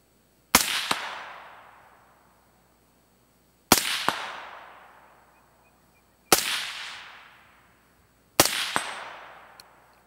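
Three sharp rifle shots fired from an alternate shooting position with a tight sling, each a crisp crack followed by a long decaying echo, spaced about three seconds apart, with no talking.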